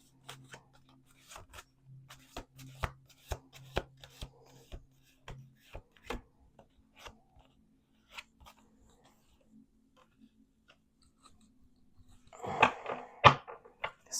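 A series of sharp, crisp tarot card snaps and riffles in separate bursts, with a louder flurry of shuffling near the end, over a faint background hum.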